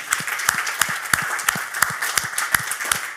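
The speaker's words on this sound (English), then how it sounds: "And the biggest round of applause, please, for Paul Hall in the back there from ShareS" A live investing-event audience applauds steadily, dense clapping with sharper individual claps standing out, continuous and fairly close, with no talking over it.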